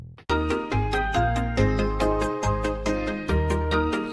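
A bass guitar plays a melodic line of plucked notes, steady and prominent, with no voices.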